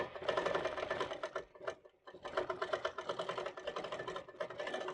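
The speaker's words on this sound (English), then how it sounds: "I'm just going to keep quilting." A Moxie ST 18-inch stationary longarm quilting machine with stitch regulator stitches in a fast, steady mechanical chatter, close and loud, with one brief pause midway before running on.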